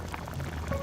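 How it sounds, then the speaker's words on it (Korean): Oyster soup simmers in an earthenware pot, giving a soft, steady bubbling with small liquid pops close by, brief and even. "보글보글 끓는 뚝배기에 굴을 푸짐하게 넣어 끓인 굴국밥입니다."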